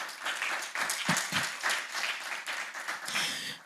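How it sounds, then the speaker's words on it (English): An audience at a keynote on Caribbean education, arts and youth gives a sustained round of applause, dense and even clapping at moderate distance throughout. "I want to give him a round of applause for that"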